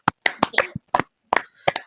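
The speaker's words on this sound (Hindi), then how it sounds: "हम सब अनम्यूट हो और परमेश्वर को महिमा देने के लिए एक जोरदार ताली लगाए" A congregation claps loudly in praise during an online Saturday women's fellowship prayer service, giving a run of short, uneven bursts of applause with brief gaps between them.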